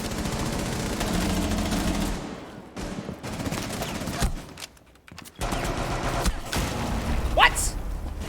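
Rapid automatic gunfire blasting through a wall in Rainbow Six, dense bursts of shots with thuds and mechanical clatter, fairly loud, briefly dropping off midway before resuming, with talking over it.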